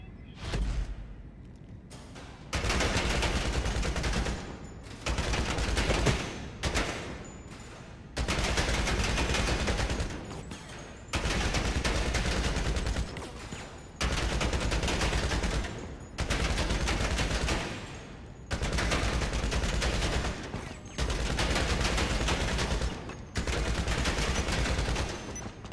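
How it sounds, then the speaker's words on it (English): Combat MG machine gun fired at a shooting range in GTA 5, loud sustained bursts repeating in long strings with brief pauses between, close and dominant with no talk. "if I try to do shooting range, combat MG, watch how hard this is!"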